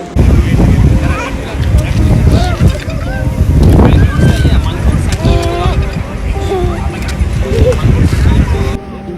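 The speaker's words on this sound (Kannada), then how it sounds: "ತುಂಬ ಚೆನ್ನಾಗಿ ಗಾಳಿ ಬರ್ತಾ ಇತ್ತು" Steady wind rushing across the microphone at a beach, with boat and water sounds and people talking throughout.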